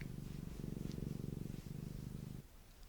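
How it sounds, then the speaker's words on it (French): A domestic cat purrs close up in a quiet room, a steady rhythmic low rumble with regular breathing pulses that continues for most of the stretch before fading softer at the end. "On va voir si elle est d'accord de ronronner elle aussi."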